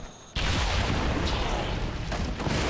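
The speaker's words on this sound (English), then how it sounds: "Lots of explosions." A sudden, loud burst of in-game explosions from the video game XCOM rolls on as a continuous dense roar after a short quiet start, with a few fresh blasts swelling through it.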